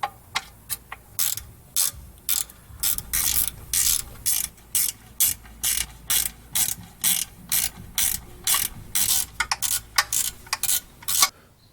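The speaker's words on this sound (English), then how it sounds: "I'm just going to use a 10 millimeter ratcheting wrench just to make it a little bit easier to do" A 10 mm ratcheting wrench snugging skid plate bolts under a Jeep Wrangler, clicking in a steady train of short, sharp bursts, each stroke a close, crisp ratchet rattle with brief pauses between, no voices.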